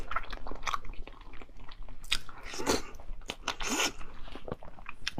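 Close crunchy chewing and biting of Chinese dishes during a mukbang, with irregular wet bites and crackly crunches up close and no talk.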